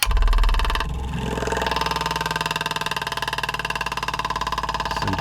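A Marine-16 Diesel Dipper runs aboard a boat, giving a steady mechanical hum with a fast regular pulsing, heard from a room away and staying even for several seconds after a louder opening thump.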